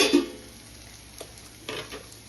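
Coarsely ground peanut masala is stirred in a pan, making a few soft scraping strokes and light clinks over a quiet low sizzle, with no voices.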